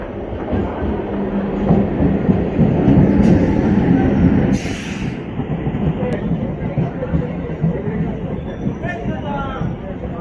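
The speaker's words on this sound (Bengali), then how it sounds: "তো বন্ধুরা, ট্রেন ঢুকলো" A passenger train pulls into a station platform, its loud rumbling wheels and clattering cars rolling steadily past, with a brief high squeal midway and people talking faintly around it.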